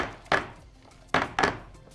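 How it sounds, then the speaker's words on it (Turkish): A baking tray of revani dessert batter is knocked against a marble counter, giving three dull, close thunks: one early, then two in quick succession near the end, with quiet between them. "Bir iki kere mermere vurdum. İyice içerisindeki hava kabarcıklarını çıkardım."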